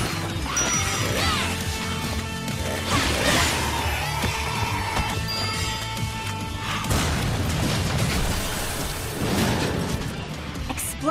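Continuous loud crashing and booming from video game explosions in Lollipop Chainsaw RePOP, layered with smashing debris and whooshing bursts, sustained without pause like a chaotic stream of explosions.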